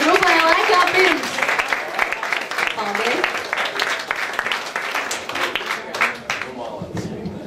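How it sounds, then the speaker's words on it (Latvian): Applause for a music group at a Latvian event fills the room, with clapping strongest at the start and then gradually thinning out, as voices and chatter rise underneath. "Aplausi grupai laikā pirms."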